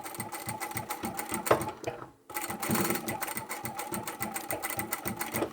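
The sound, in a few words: sewing machine back stitching a braided rope bag handle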